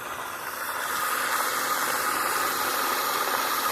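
A homemade prototype Tesla steam turbine fired by firewood runs with a steady, hissing whir and faint rattle, its broadband rush swelling slightly as it picks up speed, heard alone without talk.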